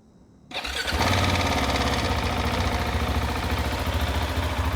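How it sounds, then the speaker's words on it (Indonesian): A 2019/20 KTM 690 Enduro R single-cylinder engine catches after a brief crank and settles into a loud, steady, throbbing idle close by, with no talking. "kita hidupkan mesinnya"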